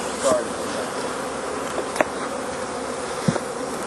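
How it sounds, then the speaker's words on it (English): Bees swarm through the air around a beehive during a smoke-free hive inspection at a nursery, a dense steady buzzing filling the scene close by with a few brief sharper knocks. "A lot of bees in the air."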